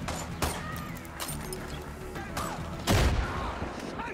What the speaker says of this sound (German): Mann, hier explodiert es die ganze Zeit.